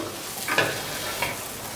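Spiced potato pieces stirred in a pan for a dry, oil-free potato dish, with soft scraping and faint sizzling and two brief louder stirring strokes close by, no talking.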